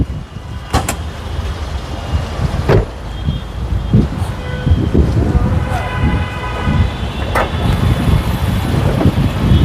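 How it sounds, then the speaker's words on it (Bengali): A used Toyota Harrier with auto hand brake and idle stop runs at idle, making a steady low hum broken by scattered clicks and knocks, with faint voices in the background. "ভাইয়া গাড়িটা কিন্তু স্টার্ট আছে জাস্ট শুধু আপনার ইঞ্জিনের ভেলটা ঘুরতেছে"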